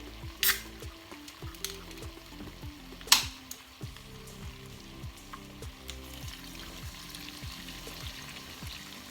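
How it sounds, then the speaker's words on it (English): Stew meat sizzles steadily in a pot while a cup of beer is poured in, a soft hiss under the frying with two sharp bursts near the start and a low repeating hum from a stove or fan, without talk. "I'm going to add about a cup of beer."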